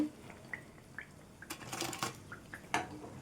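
Fried ragi flour sweets being lifted out onto a plate, a few light clinks and scrapes of a metal utensil against cookware, fairly faint and close, with no speech.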